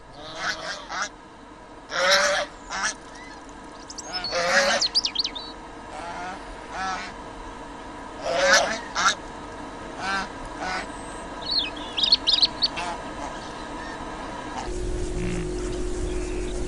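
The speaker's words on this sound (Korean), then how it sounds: "한 마리의 암놈과 한 마리의 순놈이 짝을 지으면 평생을 간다는 쇠제두루미" Demoiselle cranes on a Central Asian steppe in summer, calling in a series of short harsh honking bursts at irregular intervals, fairly near, with a narrator talking over part of it.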